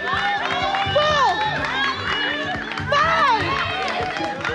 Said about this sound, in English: Cheer them on, guys